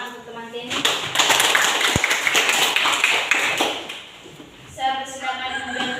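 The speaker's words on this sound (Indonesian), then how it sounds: "kita beri tepuk tangan untuk teman Denny" Classmates give a round of applause in a classroom after a group discussion presentation, a dense burst of clapping lasting several seconds before it thins out, with speech heard at the start and end.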